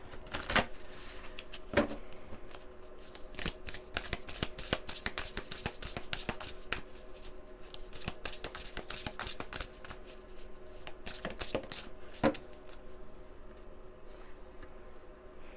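Cards are shuffled repeatedly, a soft stream of quick riffling snaps with occasional sharper taps, close and fairly quiet.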